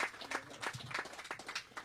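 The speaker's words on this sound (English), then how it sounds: "let's give the Premier office and the RDA a round of applause" An audience at a contract signing ceremony gives a short round of applause, scattered claps that are fairly soft and somewhat distant, with faint voices underneath.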